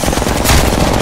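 Rapid automatic gunfire in Apex Legends rattles loud and close in a continuous burst with no pauses.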